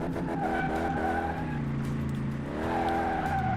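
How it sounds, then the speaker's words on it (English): Tires squeal and skid as a car in Car Mechanic Simulator 2018 spins its wheels from too much power, a loud continuous screech over a droning engine whose pitch sags and then climbs again. "second I lay on the gas a little bit, man, forget about it. It just spins out."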